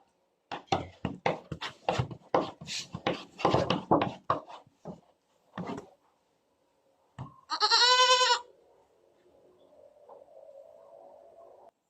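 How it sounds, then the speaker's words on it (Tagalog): A series of short sharp knocks and rustles, then one loud, wavering goat bleat close by, followed by a faint murmur. "Napakagandang kambing"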